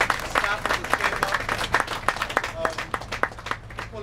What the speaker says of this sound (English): why don't you guys give a round of applause for Titania, the staff of the chamber